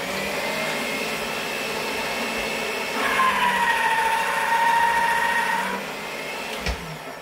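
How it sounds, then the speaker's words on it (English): Polymer clay fed through a pasta machine at its thickest setting, a steady mechanical whirring hum with a brief louder stretch midway, close and continuous, no talking. "So when I put it through the pasta machine, I'm actually going to put it this way,"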